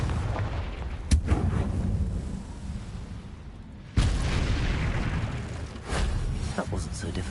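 Two booming blasts from the Confringo spell in Hogwarts Legacy on PS5, the first crackling burst near the start and a larger explosion midway, each followed by rumbling debris and a later sharp crack.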